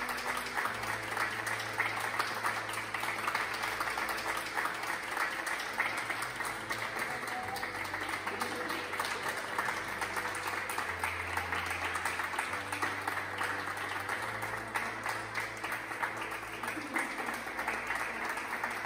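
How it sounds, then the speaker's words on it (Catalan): An audience at a civic award ceremony held by a town council in the Valencia region applauds steadily and warmly, many hands clapping in a dense even wash that lasts throughout. "Per tot això, un fort aplaudiment."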